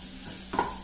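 Finely crushed garlic, two cloves, frying in a pan and given a quick stir, a faint steady sizzle with one short scrape near the end, no voices.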